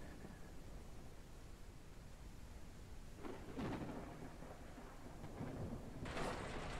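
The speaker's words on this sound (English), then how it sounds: "I'm glad to be out of that rain. That is so loud." Rain and thunder in the survival video game Mist Survival: a constant wash of rainfall with low rumbling thunder swelling twice, louder near the end, all at a fairly faint level without speech.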